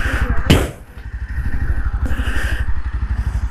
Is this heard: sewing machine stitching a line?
no